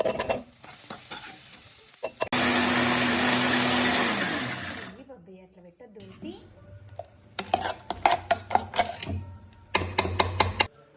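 A mixer grinder blends fried onions and green chillies into a paste, a loud steady whirring run of about three seconds, then a pause and several short, sharp pulsed bursts.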